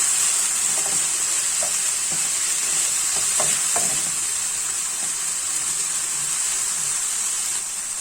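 Turkey and spices being stirred in a hot frying pan, giving a loud continuous sizzle with scattered scraping knocks of the spoon, close and with no voices over it.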